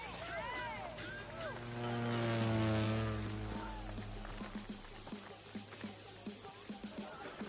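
A small propeller airplane in the video game The Crew 2 drones and swells louder for a few seconds, then settles back. Sharp clicks and taps follow over a low hum, with no talking.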